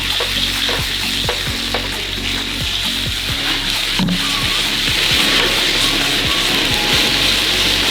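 Wagyu steak searing in a small frying pan, a loud continuous sizzle with bursts of crackling and spitting fat, heard close up.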